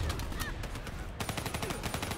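Rapid bursts of gunfire from the video game Call of Duty Black Ops 3, a brief run of sharp repeated shots, fairly quiet in level.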